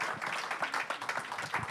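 Audience applause at a French sports-technology conference session on the legacy of the 2024 Olympic and Paralympic Games, a steady dense patter of many hands clapping, fairly close and continuous without voices.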